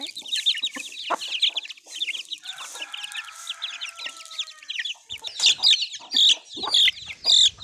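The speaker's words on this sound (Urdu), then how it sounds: "یہ چیمپئن مرغا، چیمپئن۔" A champion aseel rooster and its chicks make rapid high peeping and clucking, a steady chirping chorus that grows louder with bursts near the end, heard close in a farmyard setting.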